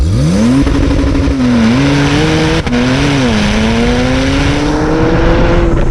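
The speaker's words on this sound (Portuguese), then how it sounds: "agora que a pista está livre, vamos fazer o launch control" A loud Porsche 911 Turbo (991.1) engine launches on launch control and accelerates hard on a track, its pitch climbing steadily through a couple of gear changes, close and continuous with no talking.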